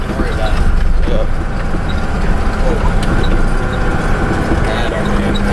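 A BR 275 snowcat engine, custom narrow build, runs steadily at about 2,000 RPM while cruising, a loud continuous low rumble close by with clanking track noise, and voices talk over it.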